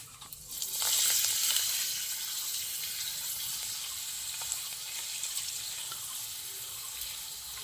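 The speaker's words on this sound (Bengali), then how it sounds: "এবার পাঁপড় নিয়েছি, ভেজে নেব। একই তেলে আমার ভাজা হয়ে যাবে।" Papad frying in hot oil, a loud bubbling sizzle that starts abruptly, then settles into a steady, close hiss with faint crackles throughout, no voices.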